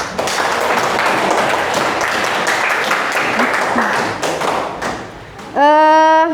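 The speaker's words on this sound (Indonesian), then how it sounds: "tepuk tangan dulu buat Sarinah" A classroom of students applauds a classmate, a dense patter of clapping with some thumps that fades toward the end before a loud tonal sound cuts in.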